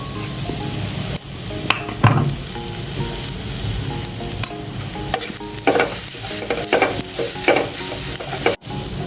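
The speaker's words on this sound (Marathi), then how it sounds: "मी कढई तापत ठेवली होती तिथे मी हा खोबऱ्याचा किस घातला आहे तर आता यातच मी हा जो तूप आहे ते थोडंसं घालणार आहे" Grated coconut roasting with ghee in a hot kadhai, a steady sizzle with repeated scraping stirs and occasional clinks of the spatula against the pan.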